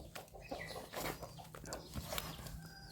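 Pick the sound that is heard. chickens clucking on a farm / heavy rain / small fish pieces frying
chickens clucking on a farm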